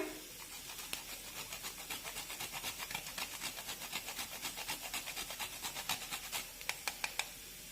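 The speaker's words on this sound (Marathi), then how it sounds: "थोडीशी जायफळ किसून घालूया" Nutmeg is grated by hand for jaggery-sweetened apple laddus: quick, even back-and-forth rasping strokes, close but fairly soft, ending with a few slower scrapes.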